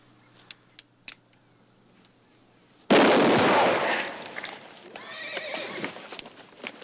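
Handgun shots fired in a quick-draw demonstration, a few sharp faint cracks early on followed by a loud, sudden burst and a broad noisy tail that fades into rustling and clatter.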